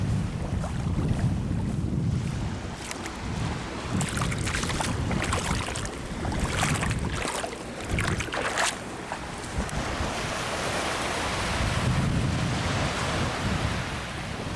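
Waves rolling in and washing over a narrowing strip of sand at Laem Haad Beach as the tide rises, a steady surf wash with gusty wind buffeting the microphone throughout.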